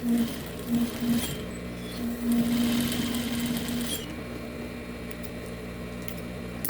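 A sewing machine runs steadily, stitching a folded fabric hem along the edge of a flap for a farmhouse-style bread basket, with a continuous close motor hum and short pauses in the first few seconds.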